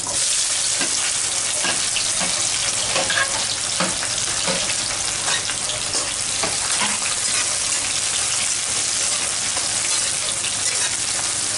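Sliced onions fry in hot oil for a potato bhaji, a loud, constant sizzle broken by scrapes and clinks as a spoon stirs them, with no voices.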